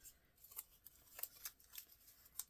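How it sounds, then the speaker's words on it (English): Scissors snipping very thin wire for a paper butterfly craft, a few quiet, crisp metallic clicks scattered over a couple of seconds. "you can cut a piece of very thin wire"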